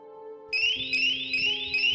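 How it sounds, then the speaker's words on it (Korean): A loud electronic door lock alarm bell rings in a steady repeating pattern, starting abruptly after a lower tone and continuing without pause. "그 도어락 경보벨이 울렸대요"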